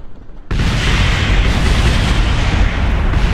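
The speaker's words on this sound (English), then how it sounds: "That explosion was the remains of the rocket." Rocket remains explode in Kerbal Space Program, a sudden loud boom that cuts in after a brief quiet and then holds as a dense, roaring blast rumble to the end.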